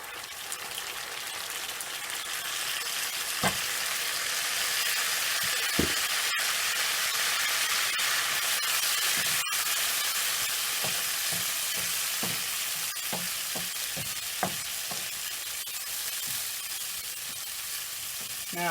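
Beans fry in a pan with a continuous bright sizzle, and a spoon scrapes through them now and then, giving brief clattering stirs and knocks over the steady hiss for the whole stretch.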